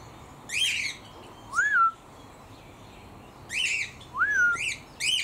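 Aviary bird calling near a bamboo and palm enclosure, a few sharp squawks and rising whistled notes in short bursts with pauses, fairly close over a quiet outdoor background.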